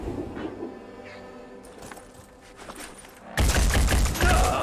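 Gunfire from the video game Phoenix Point, a loud dense burst of shots erupting after a quieter stretch of game ambience and continuing to the end.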